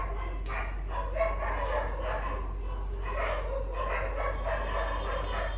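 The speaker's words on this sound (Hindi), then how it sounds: "गाइस क्या हो गया कुत्तों को" Several dogs bark repeatedly at night during rain in Dehradun, bursts of overlapping barks in an irregular rhythm at moderate distance over a constant low hum.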